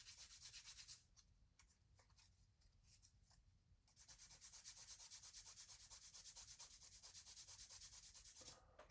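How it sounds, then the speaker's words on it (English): A coarse sanding stick rubs a plastic part from a 1/48 Trumpeter Mi-24P Hind F model kit, giving close, steady, raspy strokes in quick repetition with a short quieter pause partway through. "sanding stick. It should get it done in no time."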